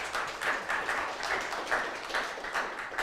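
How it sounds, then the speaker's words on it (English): A small audience claps in a short, moderately close round of applause at a newsroom event, the claps coming in soft uneven waves without talk over them. "Another round of applause for them."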